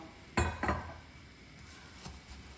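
A couple of quick metal clinks from a spoon scraping against a pot of milk as vermicelli is stirred in, then soft quiet scraping.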